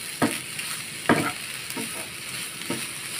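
Goan patolyo ingredients being mixed together by hand, heard as four soft, squishy bursts roughly a second apart over a steady background hiss, close and fairly quiet, with no talking.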